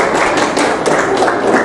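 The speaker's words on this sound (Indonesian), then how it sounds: "Beri tepuk tangan lagi." Audience applause fills a school hall during an open debate between student council (OSIS) chair and vice-chair candidates at SMA Negeri 1 Haurgeulis, a dense, steady patter of many hands clapping close by.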